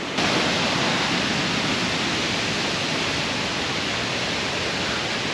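A roaring waterfall at Janjske otoke, Šipovo, heard up close as a steady, dense wash of falling water, loud and unchanging from start to finish, with no one talking.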